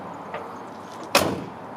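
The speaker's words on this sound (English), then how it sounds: "Door closes nice." A 1960 Chevrolet Impala two-door hardtop's door swings shut with one solid thump and a short rattle, preceded by a faint click, in a quiet setting with no speech.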